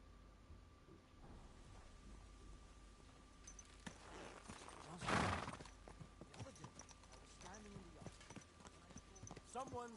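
A horse's hooves clip-clop in the medieval game Kingdom Come Deliverance 2, faint steady steps under a spoken line and quiet game ambience.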